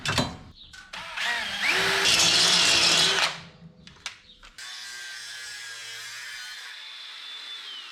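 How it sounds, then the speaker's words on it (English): A power drill whirs up in a loud two-second burst drilling a hole for a kick panel retainer in a 1951 Chevy Fleetline, followed by scattered clicks and a fainter high whine as it winds down. "I'll still drill a new hole"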